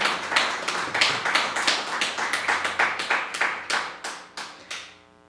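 A church congregation claps in a loose, steady rhythm, each beat sharp and distinct, then the claps taper off and fade out while a sustained musical tone rings at the end.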